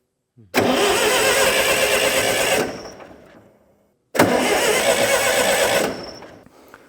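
An old ALMACO plot combine engine cranks loud and close in two separate grinding bursts of about two seconds each, with a short pause between them, and never catches.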